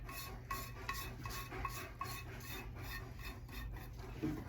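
A grater-like rasp is drawn repeatedly over a positive plaster foot cast, each stroke giving a dry, gritty scrape in a steady, even rhythm, close and with no voices.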